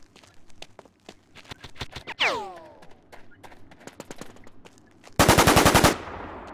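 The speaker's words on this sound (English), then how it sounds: "Somebody shot me from where I was hiding." Gunfire in the shooter game War Inc Battlezone: scattered single shots and short bursts, a ringing ricochet-like whine, then a loud, dense automatic burst up close near the end.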